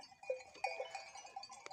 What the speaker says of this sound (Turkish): Kuzular yine bir araya toplamaya başladı.